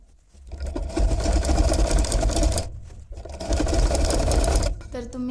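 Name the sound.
sewing machine stitching an umbrella frock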